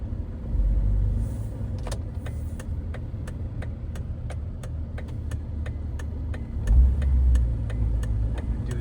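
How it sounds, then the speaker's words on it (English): A 2006 Jeep Wrangler Unlimited with a six-speed manual pulls away in second gear, its engine a steady low rumble heard from inside the cab along with a string of regular ticks. "Second gear start, you don't really have to rev it or slip the clutch too much."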